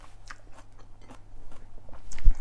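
Crunchy shrimp miang wraps with crisp fresh vegetables are eaten close up, giving a series of soft bites and crunchy chewing sounds that grow slightly louder toward the end, with no talking.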